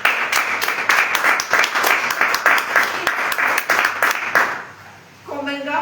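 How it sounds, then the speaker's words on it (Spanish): A church congregation at a Spanish-language service applauds with dense, lively clapping punctuated by sharper individual claps; it fades near the end as a voice begins speaking. "Den un aplauso al Señor."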